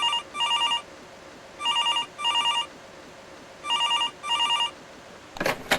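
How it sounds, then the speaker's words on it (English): A telephone bell rings in three double bursts, evenly spaced, clear and close, followed by a brief clatter at the end. "suffering every time that phone rings"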